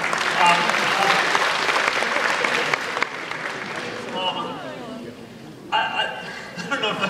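Loud audience applause fills a university auditorium at a Mark Zuckerberg talk, steady clapping for about three seconds then fading into scattered claps and murmurs before a brief renewed burst near the end.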